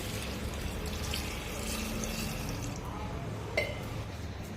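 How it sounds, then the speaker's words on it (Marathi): Water runs into a pressure cooker holding chickpeas, a soft continuous trickle and splash close by, ending with a small clink near the end. "आणि हे छोले बुडतील इतपत यामध्ये पाणी टाकायचं आहे"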